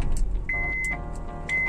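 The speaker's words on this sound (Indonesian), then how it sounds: "sebelumnya kita nyalakan dulu mesinnya yuk" A 2011 Honda CR-V third generation (RE) 2.0 automatic starts up: two sharp electronic tones and a brief whine over a low engine rumble that settles into a steady idle, heard from inside the car.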